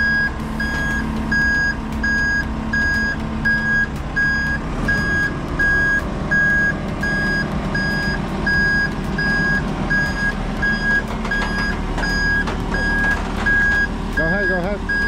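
A truck reverses with a loud, evenly spaced backup beeper sounding steadily over its idling engine, while a voice guides it back.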